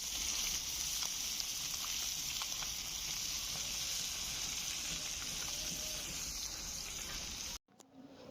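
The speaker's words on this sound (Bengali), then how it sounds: "আর এদিকে মাছ ভেজে নিচ্ছে" Fish fries in oil in a pan over a clay stove, giving a steady, close sizzle with faint crackles that runs unbroken, then stops abruptly just before the end.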